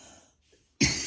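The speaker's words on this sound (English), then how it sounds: "let me clear my throat" A single sharp, loud throat-clearing burst comes near the end, after a near-silent pause with faint breathy noise.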